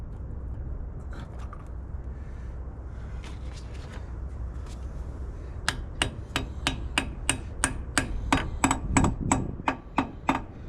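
Sharp hammer blows knock dents out of metal steering parts for a 1940 jalopy, starting with faint scattered taps and building into a close, loud run of evenly spaced strikes over a low background hum.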